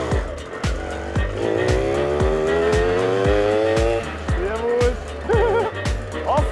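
Moped (Mofa) towing an off-road transport trailer drives past, its small engine revving and rising in pitch with a steady rhythmic pulse, fairly loud and close, with no one talking.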